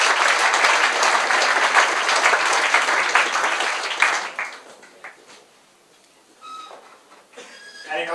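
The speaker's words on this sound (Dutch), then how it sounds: "Mag ik een applaus voor de mannen van Achterhoek 2000?" An audience claps loudly and warmly for the Achterhoek 2000 cycling team riders at a charity event. The dense applause holds for about four seconds, then thins into scattered claps and fades to near silence.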